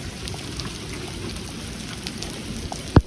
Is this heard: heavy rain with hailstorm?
yes